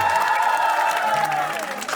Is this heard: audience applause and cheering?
yes